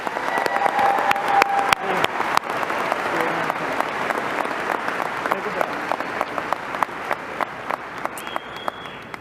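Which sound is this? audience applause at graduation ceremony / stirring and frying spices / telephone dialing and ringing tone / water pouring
audience applause at graduation ceremony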